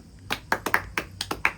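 About seven sharp hand claps at a home cake-cutting, uneven and fairly close, each a crisp slap with short gaps between.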